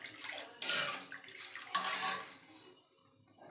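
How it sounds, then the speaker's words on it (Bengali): Water poured into a pan of sugar syrup being made for gulab jamun, a close, splashing pour that swells and fades over a few seconds, with no voices. "আর একটু জল দিয়ে দিই আমি।"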